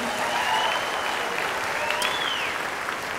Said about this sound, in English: Come on, give it up for Lanai.